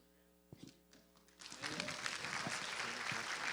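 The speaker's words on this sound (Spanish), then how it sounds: "Fuerte aplauso para ella" Church congregation breaks into loud applause during a Sunday sermon, starting with a few scattered claps and swelling into full, sustained clapping that fills the room.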